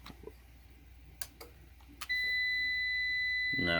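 APC 450VA BN450M UPS battery backup: a few faint clicks and taps, then a steady, loud electronic beep tone starts about halfway through and holds to the end, joined by a low buzz.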